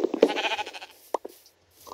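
A sheep in the Minecraft video game bleats in a short, loud, wavering call up close, followed by a couple of brief softer clicks and a faint sound trailing off.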